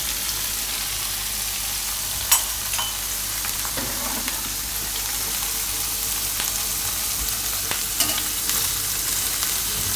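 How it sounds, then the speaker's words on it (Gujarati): Matar paneer is stirred and roasted in a pan, giving a steady, close sizzle across the whole stretch with a few sharp scrapes and clacks of a spoon against the metal. "અને આ રીતે ફેરવીને આપણે શેકી લઈશું."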